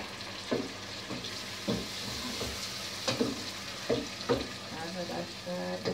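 Peppers and tomatoes sizzle in a hot pan while a utensil stirs and scrapes them at irregular moments, a steady close frying hiss broken by clacks, with no voices.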